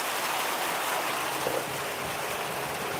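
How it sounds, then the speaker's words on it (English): Hail falling heavily outside, a continuous loud hiss of dense pelting impacts, steady throughout with no voices. "Oh my god, it's hail!"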